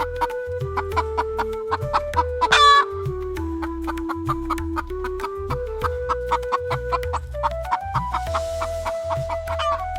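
A hen clucks in short repeated bursts over a steady background melody, the clucks coming at an uneven rhythm, fairly close.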